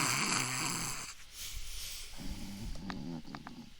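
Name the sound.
person imitating snoring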